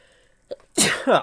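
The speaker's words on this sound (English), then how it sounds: "I had to sneeze, y'all." A single loud sneeze bursts out close by, with a short sharp inhale just before and a wet, breathy tail.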